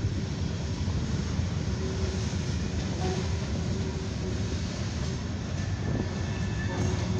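Long CSX freight train of coil cars and mixed freight, including covered hoppers, rolling through a Baltimore & Ohio junction diamond in Deshler on an evening run, with a loud, steady, continuous rumble and wheel noise close by.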